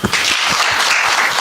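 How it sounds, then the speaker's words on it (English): Audience applause at the launch of diaspora remittance and cash pickup services: dense, loud clapping that starts sharply and holds steady across the moment, close by. "Applaud him again."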